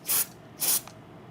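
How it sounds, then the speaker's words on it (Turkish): Akfix label remover spray is fired in two short, close hissing bursts, with a brief pause between them, while labels are lifted from a notebook computer. "Spreyi sıktığım anda daha rahat çekiyorum."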